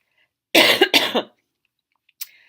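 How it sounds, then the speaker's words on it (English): Two close, harsh coughs in quick succession, then a short faint sound after a pause. "please forgive the coughing"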